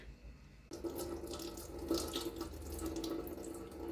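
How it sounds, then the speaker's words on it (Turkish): Excess water from soaking tomatoes is poured off through a strainer for homemade tomato paste, a steady close rush of running water starting abruptly and continuing without pause. "Şimdi fazla suyunu döküp süzgeçten geçireceğim arkadaşlar."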